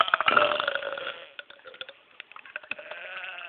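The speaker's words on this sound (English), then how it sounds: "Just sit here burping," A long, loud belch rolls out over the first second, followed by scattered smaller gurgling burps and clicks with no talking.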